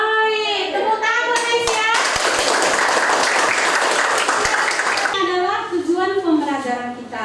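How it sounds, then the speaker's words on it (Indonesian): Students in a classroom burst into applause for a few seconds of dense, close clapping. A voice talks before it, and talking resumes after the clapping stops. "Baik, tepuk tangan guys ya."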